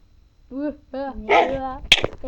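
Dogs bark in the Minecraft video game: three or four short, clear, tonal barks in quick succession, loud and close, followed by a sharper yelp at the end.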